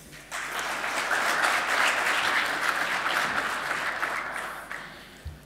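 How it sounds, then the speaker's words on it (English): An audience at a digital innovation conference claps for a speaker, a sustained round of applause swelling quickly, holding steady for several seconds, then fading out. "A round of applause, please, for Iain Patterson."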